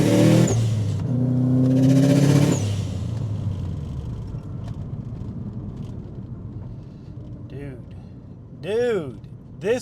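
A 2005 Subaru STi accelerates hard in third gear under turbo boost, its engine roaring loudly with a rising rumble at first, then easing off as the car carries on, with people talking over it.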